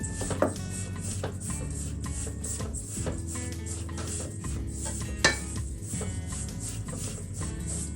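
A spoon stirs and scrapes vegan blueberry lemon scone ingredients in a bowl, giving soft continuous mixing with scattered light clinks and a couple of sharper knocks, close and fairly quiet, with no talking.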